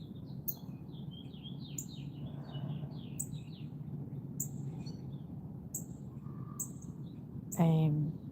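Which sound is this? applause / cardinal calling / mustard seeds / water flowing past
cardinal calling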